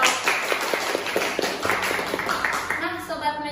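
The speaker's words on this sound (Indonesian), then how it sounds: "Tepuk tangan dong." Clapping from a school podcast audience, a dense patter of hand claps running under an ongoing speaking voice throughout.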